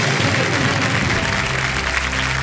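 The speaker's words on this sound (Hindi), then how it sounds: "तालियां बज जाए।" Studio audience on the TV quiz show Kaun Banega Crorepati applauds, a loud, steady burst of clapping with a low musical tone sustained beneath it.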